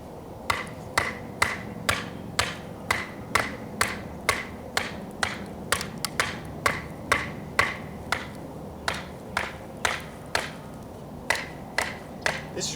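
A khukuri knife chops a hard piece of wood with repeated sharp, close strikes, about two per second in a steady rhythm, with faint speech in the background.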